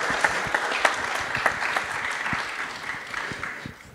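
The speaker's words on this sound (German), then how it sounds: "kleiner Applaus wäre nicht schlecht." Audience applause at a German health talk event, a steady wash of many hands clapping with a few sharper claps standing out, fading slightly toward the end.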